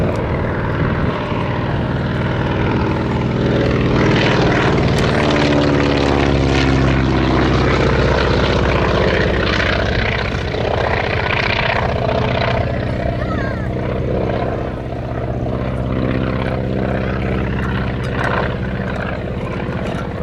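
A Naval Aircraft Factory N3N-3 biplane with a Wright R760 radial engine drones loudly and continuously overhead at an air show, its propeller tone rising and shifting in pitch as it passes.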